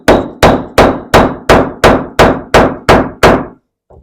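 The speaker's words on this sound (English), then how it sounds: "Hold it steady and hammer it tight." A hammer strikes the plunger of a grommet setter nine times in a steady, evenly spaced rhythm, each blow a loud, sharp close-up thwack with a short decay, followed by a brief pause.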